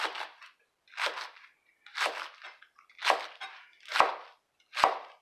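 A knife slices through a head of lettuce on a cutting board, giving six crisp, crunchy cuts at a steady pace of about one per second, close and clear with silence between strokes.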